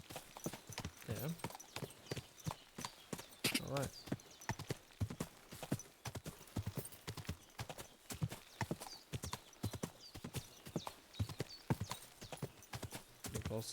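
Steady rhythmic clip-clop of horse hooves in Kingdom Come: Deliverance 2 throughout, with occasional snorts and someone speaking briefly over the hoofbeats.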